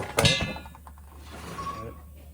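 A metal ring coming off a hay baler pick-up during tine replacement, one sharp metallic clang up front followed by faint scraping and handling sounds, close by.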